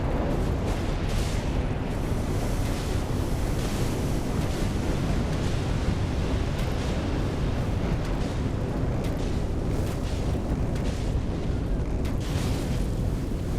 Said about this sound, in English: That noise there was the crater exploding, but don't worry, it doesn't hurt you